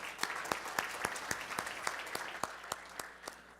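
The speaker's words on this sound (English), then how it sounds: "Big round of applause." An audience applauds after a conference presentation: a bed of general clapping with one close, sharp clapper keeping an even, quick beat throughout, fading slightly toward the end.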